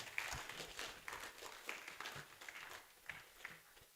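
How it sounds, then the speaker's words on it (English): Faint, scattered clapping from a conference audience rolls on in uneven bursts, soft and somewhat distant, with little else around it. "Let's clap for him once again, Professor Mauto."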